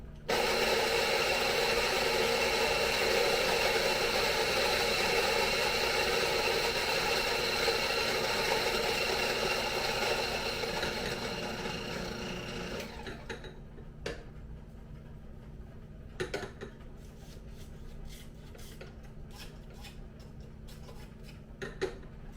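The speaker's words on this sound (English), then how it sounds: "There we have the beans. Let's get them grinding." An electric grinder whirs steadily as it grinds Ethiopian coffee beans for a Hario V60 brew, loud and close for about twelve seconds before winding down into a few faint clicks and taps.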